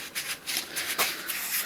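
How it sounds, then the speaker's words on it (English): Close, steady rubbing and scraping of a sanding sponge against climbing holds, in repeated back-and-forth strokes with no talking. "sanding blocks / sponges"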